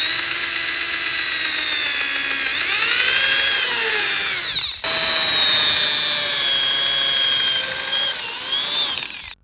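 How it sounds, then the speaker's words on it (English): A power drill whines at high speed in two long bursts, its pitch rising and dipping as it bores through material, separated by a brief pause. "in each of those spots, we'll try to drill a hole as straight as we can."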